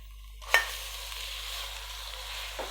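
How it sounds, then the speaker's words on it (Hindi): Minced meat drops into a hot pan with onions and bursts into a loud sizzle that settles into a steady frying hiss, with a faint stir near the end. "अभी इसके अंदर कीमा डाल देते हैं।"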